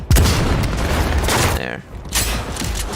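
A sniper rifle fires once in Cyberpunk 2077, a sharp loud crack at the start followed by a rumbling tail and mechanical game sounds, with a second burst of noise shortly after.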